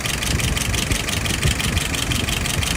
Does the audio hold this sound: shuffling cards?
no